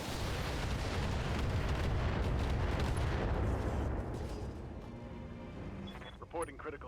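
Artillery barrage in the mech combat game Battletech: a dense, sustained rumble of blasts and booms that stays loud for several seconds, then thins out to scattered bursts under a voice.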